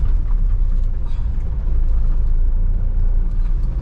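A car climbs a steep hill in third gear, its engine a steady loud low drone with dense rumble and road noise from inside the cabin, no voices.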